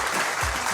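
A studio audience on a quiz show claps in a short, steady burst of many hands, loud and continuous throughout.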